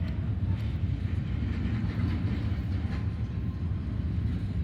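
An intermodal freight train loaded with domestic containers rolls past close by in a continuous low rumble, with faint rhythmic clatter of wheels on rail.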